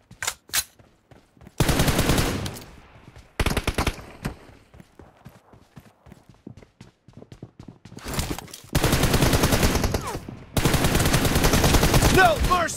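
Bursts of automatic gunfire from the mobile shooter PUBG Mobile Lite, loud sustained sprays broken by single shots and quieter gaps, with brief radio-style voice callouts in between.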